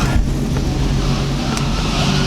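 A BMW E24 633CSi on flat tires after eight years sitting underground, driven slowly; its engine gives a steady, loud, close low rumble with light rattles, no voices.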